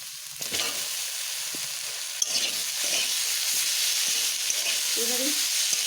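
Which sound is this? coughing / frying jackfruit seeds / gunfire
frying jackfruit seeds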